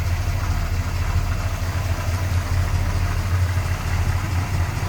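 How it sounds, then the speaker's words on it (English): The V8 engine of a 1968 Chrysler 300 Convertible idles smoothly and steadily, a low even rumble with no voices, heard up close for several seconds. "You can definitely hear it's a smooth running engine."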